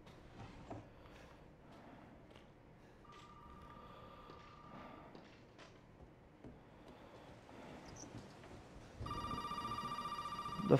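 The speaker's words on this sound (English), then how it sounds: "The phone is ringing." A telephone rings in the survival horror game Resident Evil VII, its steady electronic ring entering partway through and then growing louder and clearer near the end over a low, rumbling game ambience.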